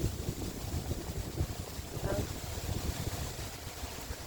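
Steady wind rushes and buffets the microphone outdoors, a continuous broadband roar with low gusty rumble throughout.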